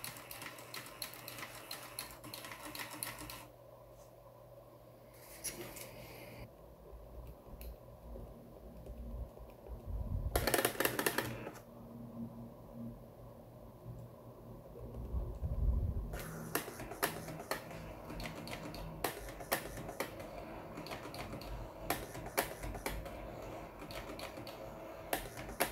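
A Sharp CE-150 printer feeds paper, giving quiet bursts of rapid mechanical ticking and whirring, split by calmer stretches and a few louder clattering passages, with no speech.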